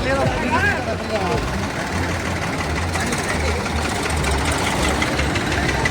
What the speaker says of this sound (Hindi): इतने ट्रैक्टर एक साथ।